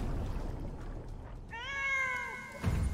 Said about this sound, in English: There is another cat.